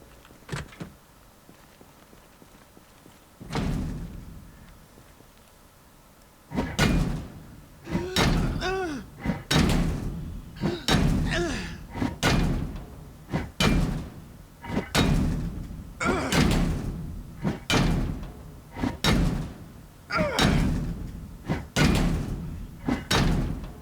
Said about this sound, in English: We're going to go through and see what doors are open and what doors aren't open.